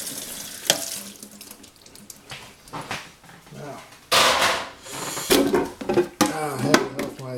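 Dishes and a baking tray being washed up in a kitchen sink under a running tap, with splashing water, clinks and clatter rising and falling near the listener while a voice talks over it.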